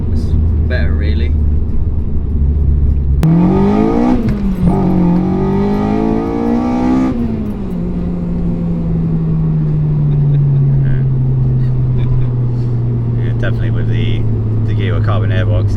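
A Honda Integra DC5 VTEC engine with a carbon airbox revs hard, climbing in pitch with a sharp upshift-like jump, then settles into a steady, falling drone, loud and close.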